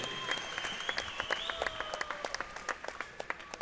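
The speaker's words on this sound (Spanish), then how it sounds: "un fuerte aplauso a ambos pugilistas" Faint applause from a crowd at a boxing event after a bout, scattered claps spread across the hall and heard at a distance with a tonal hum.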